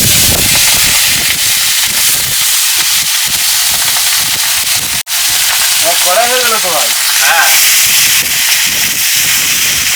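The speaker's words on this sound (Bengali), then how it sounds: "মাছটা ভালো করে কষানো" Fish sizzles steadily in hot oil in a pan, likely alongside fried new potatoes, with a constant loud hiss broken by a brief dropout and a short faint tonal sound midway.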